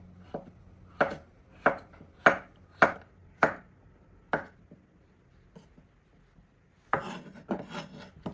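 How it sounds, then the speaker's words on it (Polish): A knife cutting an avocado into quarters for a curry-sauce salad, several evenly spaced sharp cutting knocks on a board, close and crisp, then a short rustling scrape at the end, with no talking. "Ja awokado kroję, robię ćwiartkę i tak o"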